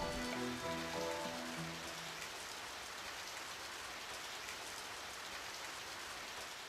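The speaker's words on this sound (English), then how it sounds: "It started to rain." Steady rain falls in the Radiant Historia: Perfect Chronology video game, a dense, even hiss of drops that fades in as a short musical phrase dies away, continuing alone and fairly quiet.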